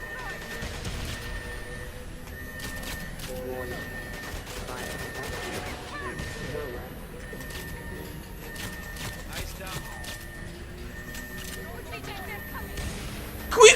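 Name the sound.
gunfire in the video game GoldenEye 007: Reloaded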